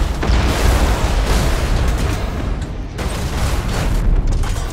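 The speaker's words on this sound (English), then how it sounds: "Initiate Thunderhawk bombardment." Thunderhawk bombardment in the space strategy game Battlefleet Gothic Armada 2, a steady, loud rumbling barrage of deep booming explosions with repeated blasts and no pauses.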